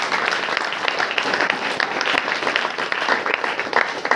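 Congregation clapping during a church prayer meeting, a sustained loud wash of many hands with rapid irregular claps carrying on for several seconds.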